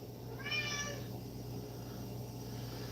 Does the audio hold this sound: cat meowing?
yes